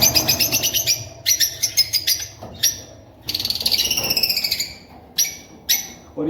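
Lovebirds in a large aviary chirp in quick, shrill bursts of repeated calls, close and loud, with short pauses between the flurries.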